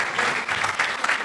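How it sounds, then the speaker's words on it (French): A public-speaking talk audience breaks into applause, a short, even burst of many hands clapping at moderate loudness. "bravo, on applaudit"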